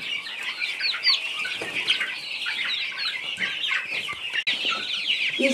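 A flock of chicks and young hens clucks and peeps continuously nearby, a busy overlapping chatter with brief rustles and wing flutters, without talk.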